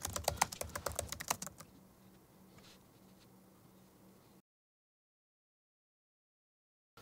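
A computer keyboard is typed on in a quick, close burst of clicking keystrokes, which thins to a few faint taps and then falls silent.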